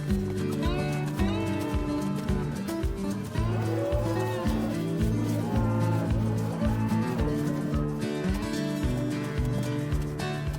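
Angus cattle lowing repeatedly on a ranch during heat checks, several overlapping moos close by, steady and loud throughout.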